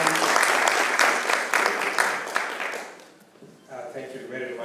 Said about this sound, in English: A round of applause as you come.